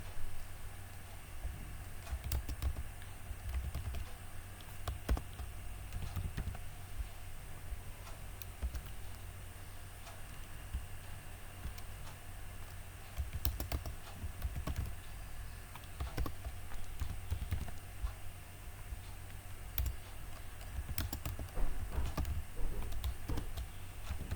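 Keystrokes on a computer keyboard while a password is entered during a Windows 11 software setup, a steady run of close, light clicks and taps with no talking.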